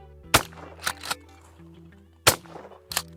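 A Remington 870 Fieldmaster pump-action shotgun sounds loud and close at an outdoor range, with a handful of sharp, abrupt reports spaced unevenly over a steady low hum. No one talks.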